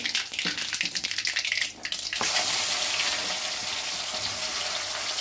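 Sliced onion dropped into a hot cumin and mustard seed tempering for poha. A loud, dense sizzle bursts out partway through and holds steady close by, after a stretch of quieter crackling and stirring.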